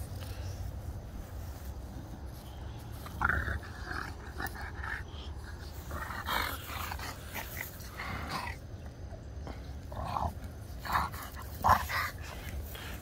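A merle French Bulldog puppy plays with a large female French Mastiff, producing close, intermittent barks, whimpers and low growls over a steady background hum.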